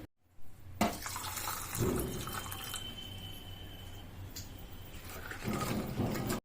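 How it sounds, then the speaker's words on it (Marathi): Dried jujube berries being washed in water in a metal pot: running tap water and swishing, sloshing liquid with a few clunks of the pot, close and moderately loud, no speech. "ही वाळलेली बोरं आपल्याला एका गंजामध्ये टाकून दोन ते तीन पाण्याने स्वच्छ धुवून घ्यायची आहे"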